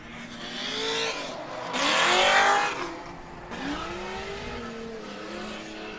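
Drift cars run a race track at a winter drift event, engines revving and rising in pitch with a loud burst of tire squeal and skidding in the middle, all close and continuous.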